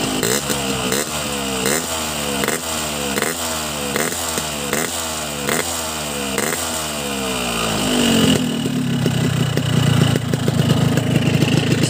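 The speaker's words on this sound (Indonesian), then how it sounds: "Coba kita geber dikit." A two-stroke motorcycle engine running on semi-synthetic two-stroke oil, hot and jetted rich, blipped in about a dozen quick, evenly spaced revs, then held at a louder sustained rev near the end, with no talking.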